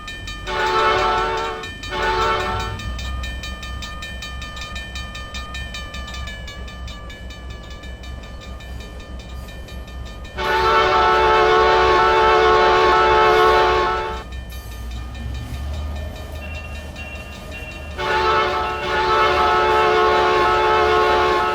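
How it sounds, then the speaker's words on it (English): Locomotive in the Trainz railroad simulator on a fictional Maine Central Railroad line chugging slowly in, its horn sounding in several loud sustained blasts separated by quieter rumbling running noise, with no talk. "The train slowly chugs in."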